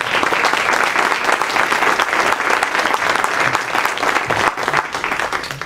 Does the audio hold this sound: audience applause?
yes